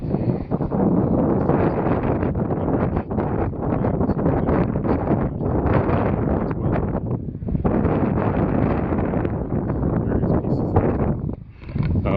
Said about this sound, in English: Hopefully the sound is not too bad, because it's still very windy today